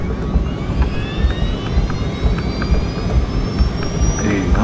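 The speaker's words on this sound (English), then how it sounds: "At 6:02 p.m., the DC-9 lifts off from LAX." A DC-9 jet airliner taking off from LAX, a loud steady jet engine roar with a rising whine running throughout, close and continuous, with faint voices under it.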